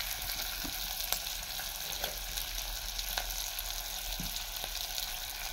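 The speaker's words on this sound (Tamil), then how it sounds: "பாருங்க, இப்படி வதக்கணும்." Pepper, cumin and urad dal sautéing in sesame oil give a steady, even sizzle and crackle. Faint occasional stirring clicks sit on top, and no one speaks.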